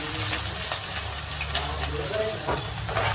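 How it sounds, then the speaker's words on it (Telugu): Onion and curry leaves fry in hot oil in a pan, giving a steady, close sizzle with crackling hiss and occasional stirring scrapes. A faint voice is audible underneath. "ఆనియన్ మంచిగా బ్రౌన్ కలర్లా వచ్చేంత వరకు సిమ్లో పెట్టుకొని మనం ఫ్రై చేసుకుందాం"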